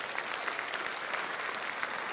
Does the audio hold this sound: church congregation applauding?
yes